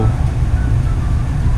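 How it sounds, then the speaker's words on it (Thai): A steady, low mechanical hum and whoosh of a portable air conditioner running in a van, constant and fairly loud with no breaks. "ตอนแอร์ทำงานก็จะมีเสียงประมาณนี้นะครับ"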